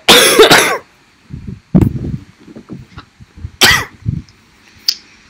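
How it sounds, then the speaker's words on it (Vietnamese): A woman coughs hard in several harsh, close bursts spread across a few seconds, with wet throat-clearing rasps and small hacking sounds between them and no talk. "mày ho dữ vậy"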